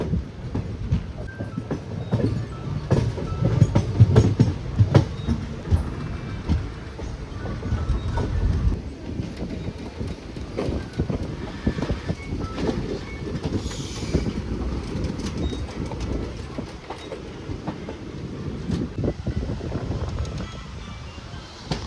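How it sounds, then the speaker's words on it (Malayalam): A Thrissur–Guruvayur passenger train rolls steadily along the main line, slowed down, with a continuous rumble and rhythmic clatter of wheels, heard from on board. "ഈ മെയിൻ ലൈനിൽ കൂടെ പോകുന്ന ട്രെയിൻ ഇവിടെ ഇപ്പോൾ കുറച്ചൊന്ന് സ്ലോ ആക്കിയിട്ടാണ് പോകുന്നത്"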